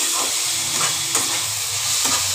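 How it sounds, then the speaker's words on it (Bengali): Chow mein ingredients are stir-fried in a pan, a loud constant sizzle broken by scraping stirs and the occasional knock of the utensil, close up and without speech. "এবার আমি ভালো করে এটাকে ভাজা ভাজা করব।"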